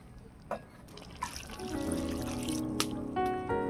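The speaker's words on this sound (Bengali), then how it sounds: "এবারে পরিমাণ মতো জল দিয়ে দেব।" Water pours into a cooking pot while a Bengali curry of hilsa fish head, taro and Malabar spinach cooks, a soft splashing trickle that builds to a steady stream, with a few faint clinks and no talk.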